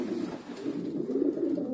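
A pigeon at a Romanian breeder's loft coos in low, soft, rolling phrases, close and fairly loud, repeating continuously with no talking over it.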